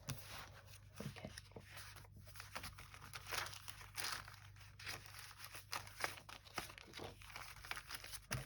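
Fragile French dictionary paper being handled, crinkled and crumpled at a craft table while making a junk journal; a continuous close stream of dry rustling and crackling with irregular sharper crunches, no talking.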